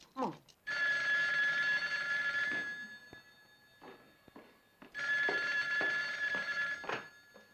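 A telephone ringing in an Egyptian film, two long bursts of bright electric bell ringing separated by a pause, fairly close, with brief clicks and faint voices between the rings.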